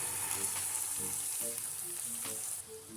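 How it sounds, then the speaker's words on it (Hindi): Onions and garlic sauté in a pan with a steady close-up sizzle, carried under soft melodic background music. "अब इन सबको सौते करना है जब तक प्याज थोड़ा सा ब्राउन हो जाए"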